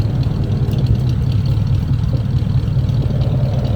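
A 1950 Mercury Eight sedan with a glasspack exhaust idles with a low, smooth, steady rumble from its exhaust, close by and continuous, with no voices.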